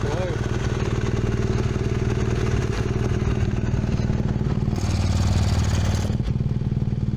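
A motorcycle with an open, uncorked exhaust rumbles with a deep, throbby bass and clattering pulses, swelling briefly louder toward the end before dropping back.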